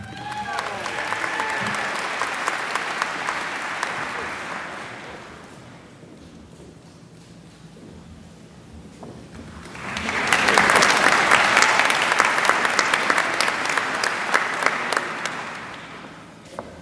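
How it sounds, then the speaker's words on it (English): Sustained applause from a crowd at a School of Social Work convocation, loud at first, dipping to a quieter lull midway, then swelling again into strong clapping that continues to the end. "One big round of applause for all our new Doctor of Philosophy and Social Work graduates."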